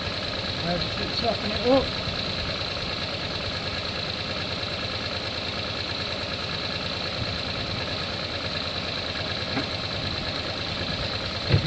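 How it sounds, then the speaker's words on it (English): Small Chevrolet Matiz engine ticking over at idle while coolant bleeds from the system, a steady close hum with light ticking throughout and a person speaking briefly over it. "leave it to tick over, just so all the antifreeze get out of the system"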